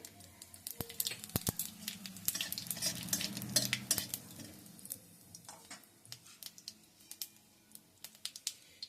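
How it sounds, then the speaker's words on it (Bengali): A dried red chilli and whole cumin seeds fry in hot oil, crackling in a dense run of sharp pops and ticks that thin to scattered spits over a soft sizzle, close and fairly quiet with no talking. "তেলের মধ্যে দিয়ে দিচ্ছি একটা শুকনো লঙ্কা একটু গোটা জিরে"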